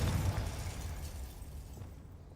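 Confringo blasting spell going off in the Hogwarts Legacy video game, a loud rumbling burst at the start that decays and fades away over about two seconds.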